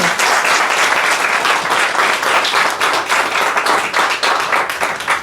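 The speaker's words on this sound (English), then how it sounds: "we give her another round of applause" Audience giving a workshop presenter another round of applause, close and loud, a thick, continuous rattle of many hands clapping at an even level for several seconds.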